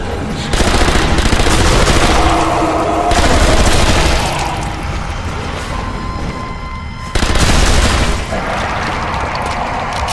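Rapid gunfire rattles loudly in the Zombie Army shooter game, coming in dense sustained bursts broken by brief lulls, with heavy booming weapon reports layered throughout.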